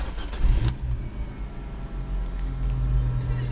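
Engine of a wheelchair accessible car starting up close by: a short burst of cranking that catches into a steady low idle, heard alone without talk.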